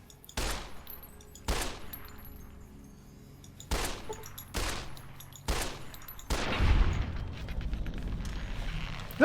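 Gunfire from the video game Fallout New Vegas: five sharp, loud shots spaced a second or so apart, each with a decaying tail, then a heavier rumbling blast near the end, with no talk over them.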